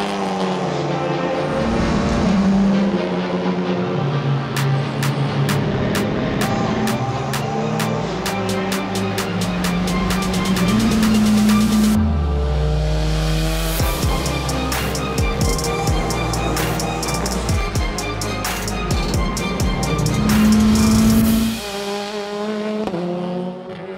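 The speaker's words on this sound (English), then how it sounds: "here we are in Paul Ricard, where we will start racing in the TCR European Series in my Honda Civic Type R." Honda Civic Type R TCR race car lapping the Paul Ricard circuit, heard onboard: a loud engine climbing and dropping through rapid upshifts and downshifts, with crackles on the overrun and steady roaring throughout.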